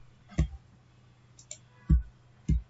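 A computer mouse clicks three times in a quiet room, sharp close clicks spaced unevenly, with a fainter tick between them.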